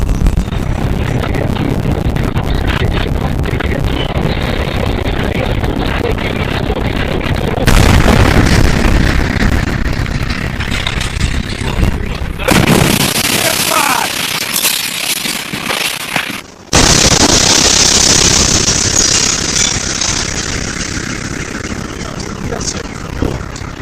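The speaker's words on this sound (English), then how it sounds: "that is sound wave percussion from this meteor exploding" Loud meteor blast over Russia, a roaring, crackling wall of noise with a sudden heavy boom shift midway and another sharp jolt later, with voices mixed into the din.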